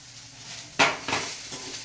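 Chicken going into a pressure cooker for tempering with ghee: a sharp clatter and sizzling burst, then a couple of softer metallic knocks and stirring scrapes, close and alone.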